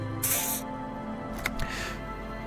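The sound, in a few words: spray being applied to armpits, from video game Disco Elysium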